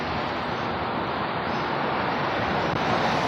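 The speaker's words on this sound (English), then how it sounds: "It's windy right now." Wind gusting outdoors during a parade and festival in New Bedford, Massachusetts, a constant loud broadband roar buffeting the microphone with no talk.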